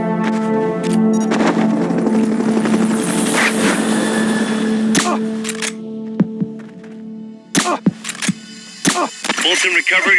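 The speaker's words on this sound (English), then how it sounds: "Fulton recovery helicopter is complete." Fulton recovery helicopter in the video game Metal Gear Solid: Peace Walker: a loud, steady rotor drone with engine hum for several seconds, fading into sparse sharp clicks and beeps toward the end.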